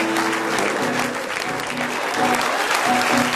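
A church congregation applauding and cheering during a sermon by the pastor; loud, continuous clapping with cheering voices mixed into it, steady throughout.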